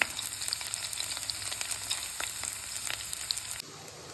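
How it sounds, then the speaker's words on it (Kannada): Onions fry in hot oil with green chillies, a close, continuous crackling sizzle with light stirring, the sound cutting off abruptly near the end. "ಈಗ ಈರುಳ್ಳಿ ಹಾಕ್ಕೊಂಡು ಚೆನ್ನಾಗಿ ಫ್ರೈ ಮಾಡ್ಕೊಳ್ಳೋಣ."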